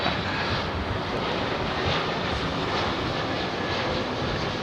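An airplane arriving on runway 27R at London Heathrow gives a steady, loud, broadband jet roar throughout, with no talking.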